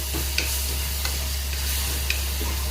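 Curry leaves sauté in a pan with a constant close sizzle, broken by a few light clicks of a spoon stirring.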